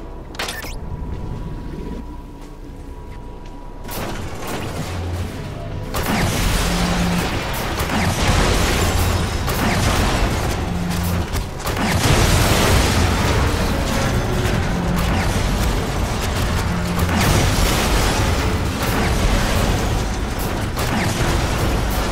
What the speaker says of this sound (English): Let's get back to the Sentinel arm cannon and have some fun.